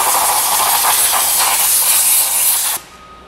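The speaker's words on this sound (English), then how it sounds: "it's essentially brake clean in there just to clean up any of the dust or anything that was in there" Brake cleaner solvent sprayed into a bore during a seal replacement, a loud, steady pressurised hiss lasting nearly three seconds before cutting off abruptly into quiet.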